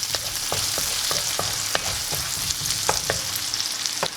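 Onion and cumin seeds sautéing in a pan, a steady close sizzle with repeated scraping stirs of a spatula every half second or so; no voices.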